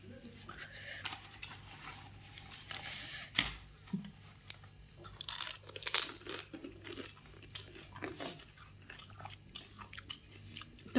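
Crunchy puffed rice (muri) is chewed up close, with irregular crisp crunching bursts and light rustling in a quiet room.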